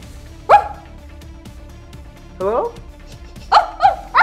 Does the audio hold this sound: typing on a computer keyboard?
no